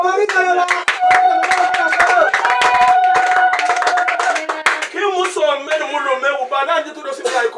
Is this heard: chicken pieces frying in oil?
no